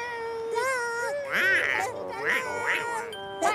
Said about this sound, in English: a lovely, lovely duck